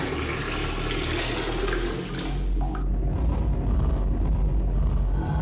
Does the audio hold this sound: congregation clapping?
no